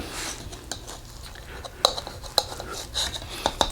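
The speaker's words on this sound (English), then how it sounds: "Now I just slice it into a pie shape." A knife or server works through meatloaf in a cast iron skillet, cutting it into pie-shaped wedges, with a run of close metallic clinks and scrapes against the pan, several sharper taps near the end, and no talking.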